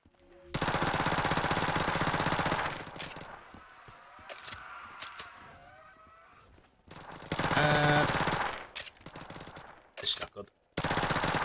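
An Uzi firing in Call of Duty Black Ops 3 Zombies on a custom Super Mario Galaxy Ghostly Galaxy map: a long loud automatic burst, a quieter gap, another heavy burst, then short rapid bursts.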